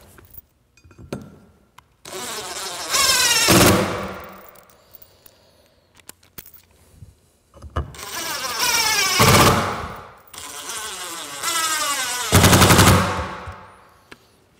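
Fastening the frog of a right-hand model railroad turnout from an Accu-Tie rail switch kit gives off three loud bursts of rapid, rattling buzzing, each lasting a second or two and separated by quieter handling clicks.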